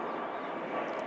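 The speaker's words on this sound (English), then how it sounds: "Sorry about the aeroplane noise." A steady broadband roar of an aeroplane passing overhead, fairly faint and distant, with no talking.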